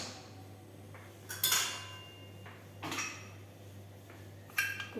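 A metal lid set onto a cooking pot of peas upma gives a few clanking knocks and clinks, close by with a steady low hum underneath.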